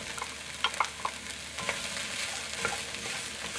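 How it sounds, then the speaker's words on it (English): Bite-sized squares of zucchini sauté in a soup pot, a steady close sizzle broken by a few sharp scrapes and stirs of a utensil, with no talking. "Start sauteing that up."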